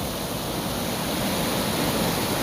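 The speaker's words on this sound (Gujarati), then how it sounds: "આ હે બંધ અટાણે પાણી પડે જોરદાર" An overflowing dam sends water pouring over its edge in a heavy, continuous roar, loud and close, with no voices present.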